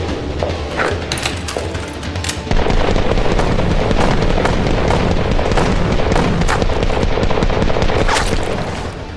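Revolver gunshots in the action film Sinister Squad crack loudly in rapid succession, layered over a dense, booming wash of action noise.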